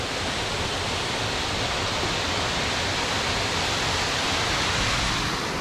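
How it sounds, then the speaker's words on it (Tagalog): Waterfall hidden in a forest, a dense, loud, unbroken roar of rushing water heard up close with no gaps. "Yung falls, oh."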